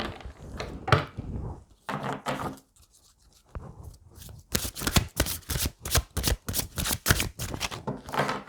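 Tarot cards shuffled and drawn by hand, with irregular papery riffles, slides and soft taps, a busy burst in the first two seconds, a brief quiet gap, then denser rapid shuffling close up and moderately loud, no voice.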